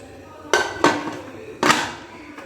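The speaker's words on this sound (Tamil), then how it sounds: "இதில் வந்து கேஸ்கட்டும் விசிலும் இல்லாமல் குக்கரை வந்து மூடிடலாம்." A metal pressure cooker lid, without its gasket or whistle, set down and closed in a kitchen: three or four sharp metallic clanks, close and distinct, each ringing briefly before fading.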